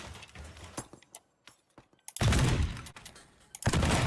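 Upgraded shotgun fired in the destruction game Teardown: two loud, heavy blasts, each sustaining a rough roar for a fraction of a second, separated by quieter clatter and brief gaps.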